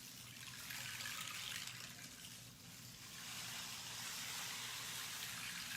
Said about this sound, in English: I really like it because it sounds like authentic running water.